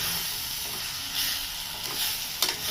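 Chopped spring onion and egg frying in a pan, a continuous close hissing sizzle with a few soft stirring scrapes and one sharper clink near the end, no voices.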